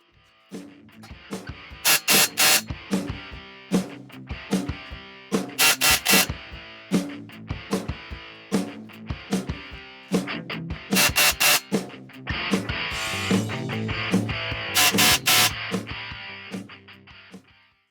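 Snap-on CT8850 and Milwaukee M18 FUEL 2763 half-inch cordless impact wrenches hammer on a torque tester in loud, rapid bursts of metallic rattling, separated by short pauses, with motor whir between strikes.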